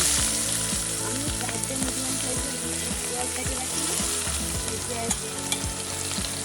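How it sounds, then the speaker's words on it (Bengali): Onion fries in oil with cinnamon, cloves and cardamom, a dense continuous sizzle close up, punctuated by repeated scraping strokes of stirring in the pan. "এখন পেঁয়াজটা ভালো করে ভাজি নিতে হবে"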